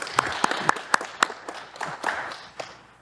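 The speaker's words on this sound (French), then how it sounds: "je commencerai aujourd'hui en applaudissant" A small studio audience claps to welcome a guest to an interview show, the claps sparse and distinct, fairly faint, with a few sharp individual smacks standing out over a quiet room.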